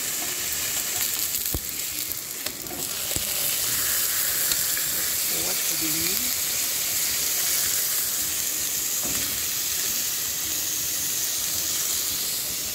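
Meat slices searing in a hot pan give a loud, continuous close-up sizzle and hiss, with a few brief clinks and movements over the steady frying.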